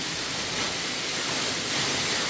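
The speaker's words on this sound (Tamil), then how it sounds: "ஐயா ஃபால்ஸ் பாருங்கள், அது கொட்டுறதே பாருங்களேன்" Waterfall pouring at Sadasiva Kona, a dense continuous hiss of falling water, steady and enveloping with no voices over it.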